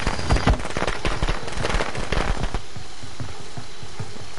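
Rapid crackling bursts of firecrackers going off in the Friday the 13th video game, a dense, loud volley for about two and a half seconds that then drops to a quieter, steady background.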